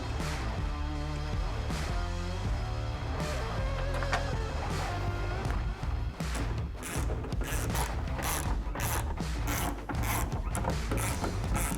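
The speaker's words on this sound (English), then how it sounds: "Take your 10mm wrench and tighten those locking nuts." A 10mm ratchet wrench tightens locking nuts on a Putco Molle bed system installed on a Jeep JT, giving quick runs of close, crisp ratcheting clicks over a steady, dense background.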